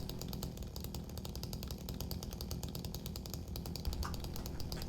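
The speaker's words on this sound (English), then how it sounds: "We need to wait for James's chainsaw to be turned off." A chainsaw runs loud and steady for the full stretch in the horror game Silent Hill 2, a continuous rasping, buzzing motor drone inside a hotel with no talking over it.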